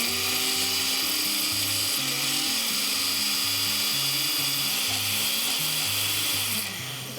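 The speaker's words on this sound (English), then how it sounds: "now we're gonna blend this until it's extra creamy smooth" A blender whirring through a matcha green tea powder mixture: a loud, continuous motor whine with shifting pitch steps, running steadily before easing slightly at the end.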